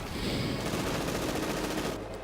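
MP40 submachine guns fire in Company of Heroes 2, sustained dense automatic bursts overlapping into a loud, continuous fusillade that cuts off near the end, with no voices.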